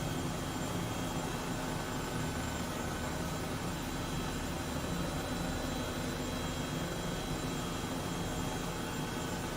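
Steady broadband engine roar and turbine whine of an H135 helicopter taxiing in Microsoft Flight Simulator, loud and continuous throughout with no talk.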